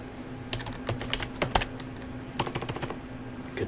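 Typing on a computer keyboard, close-up irregular bursts of light key clicks with short pauses between them, with no voices.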